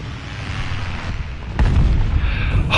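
A loud explosion in the War Thunder combat game hits about halfway through, a sudden deep boom that rolls into a sustained rumble over continuous battle noise.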